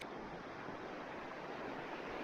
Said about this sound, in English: Know it's a little loud down here by the creek